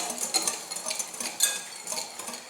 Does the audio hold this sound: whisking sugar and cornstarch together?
yes